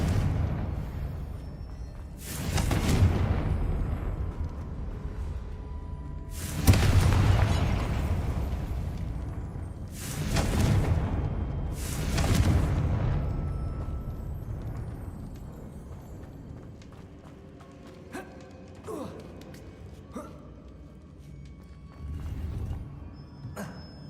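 Repeated deep booming blasts from the Confringo fire spell in the video game Hogwarts Legacy, four loud bursts with rumbling decay, followed by quieter magical sparkles and effects.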